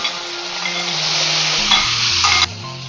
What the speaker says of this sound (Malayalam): ഇതിലേക്ക് ഞാൻ ബീഫിന്റെ എല്ല് ഇടുകയാണ്.